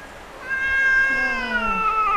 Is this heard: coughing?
no